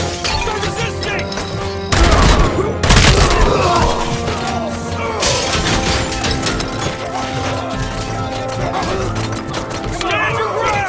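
Rapid gunfire bursts and cracking shots in a Robocop Rogue City bank shootout, loud and dense throughout, with shouting voices mixed in and a heavy burst around two to three seconds.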